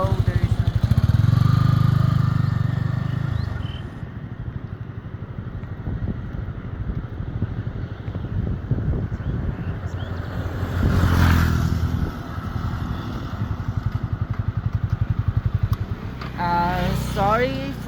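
A new motorcycle's engine drones steadily throughout a ride, its pitch rising as it accelerates, with wind rush and people talking over it.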